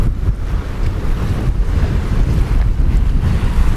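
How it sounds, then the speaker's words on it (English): Waves lapping against the shore and rocks at Toronto's Centre Island, a continuous low wash of water mixed with wind buffeting the microphone, no voices. "And waves lapsing on the shore, on the rocks."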